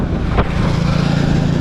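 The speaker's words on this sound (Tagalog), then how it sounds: "Ang lakas ng hangin." Strong wind roars and buffets the microphone during a bike ride on the Boracay Island loop road, giving a loud, low, continuous rumble with one brief gust near the start.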